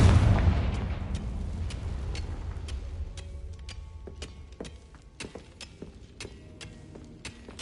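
A Confringo blasting curse explosion in the Hogwarts Legacy video game, a loud booming burst that decays over a few seconds, followed by scattered sharp ticking and crackling hits.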